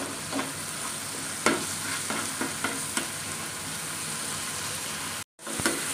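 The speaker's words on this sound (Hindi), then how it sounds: "इसको भी थोड़ा सा फ्राई कर लेंगे जब तक कच्चापन टू ना जाए।" Onion, garlic and ginger sizzle steadily in a hot pan, with occasional scraping stirs and a brief dropout near the end.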